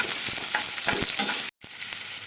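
Onion frying with panch phoron in a pan gives a full, bright sizzle with a few stirring scrapes, cut by a sudden brief gap of silence before the hiss resumes, close up, no voices.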